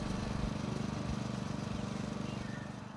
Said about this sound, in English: a shot of one of our members of the staff mowing a green, hole number 5, early in the morning with the dew lines